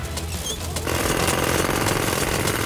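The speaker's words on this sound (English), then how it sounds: "Jackhammer!" Cartoon jackhammer starts up after a brief lead-in, then hammers in a loud, rapid, continuous rattling pound close by.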